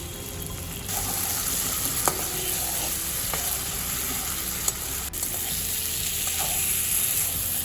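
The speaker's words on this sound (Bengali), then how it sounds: "কিছুক্ষণের মধ্যেই দেখুন মশলাটা আলুর সাথে ভালো ভাজা হয়ে যাচ্ছে" Spice paste fries with potatoes in hot oil, giving a loud, steady sizzle with a few light clicks from stirring.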